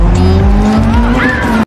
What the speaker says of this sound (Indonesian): Roxy kembali terlibat kejar-kejaran dengan Javier menggunakan mobil curian